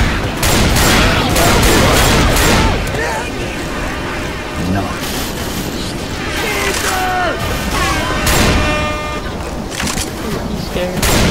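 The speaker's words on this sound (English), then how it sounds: "Oh, this is a good pipe bomb." A pipe bomb goes off in the zombie shooter Left 4 Dead, a dense roaring blast amid continuous rattling gunfire and booms that fill the scene, loud and sustained throughout.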